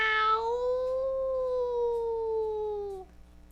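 A person's voice imitates a cat meow as a recording in Scratch, a single drawn-out, slightly falling meow lasting about three seconds, close and clear.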